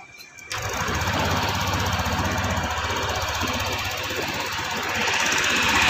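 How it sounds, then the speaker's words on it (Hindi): A TVS Jupiter 125 scooter with a self-start sensor fault cranks on its starter after a brief click, then settles into a steady, close engine chatter that grows slightly louder toward the end; no talking. "अभी हम सेल्फ मारते हैं।"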